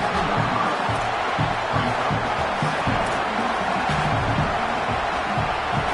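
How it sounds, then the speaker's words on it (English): Stadium crowd at an LSU versus Oregon college football game, a steady loud wash of fans roaring and cheering throughout, with no distinct pauses. "We knew this crowd would make its presence felt, and they are doing so in a big spot."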